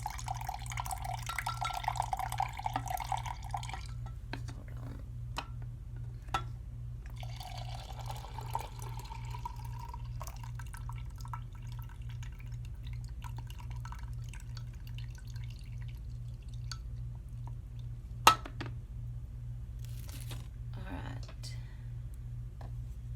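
A cooled herbal liquid mixture for a concentrated floor and door wash is poured into a container, giving a watery trickle and drips that come and go over a steady low hum.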